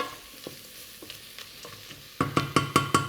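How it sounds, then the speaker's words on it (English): Chillies stirred into a pot of Tom Yam soup with prawns: quiet scraping at first, then from about two seconds a run of five or six loud, regular spoon-against-pot clatters up close, with no talk. "Give that a quick stir."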